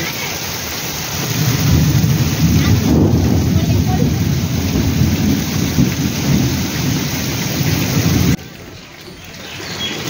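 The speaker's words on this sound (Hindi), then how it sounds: "प्रबल जोर वर्षा हो" Heavy rain pours down in a village as thunder rolls, a dense, loud hiss of drumming rain with deep rumbling underneath that keeps building and then drops off sharply toward the end.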